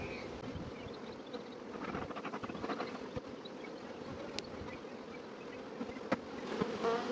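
Honeybees buzz steadily in an open beehive, a dense continuous hum of many insects at close range with small rises and occasional faint knocks, no voices.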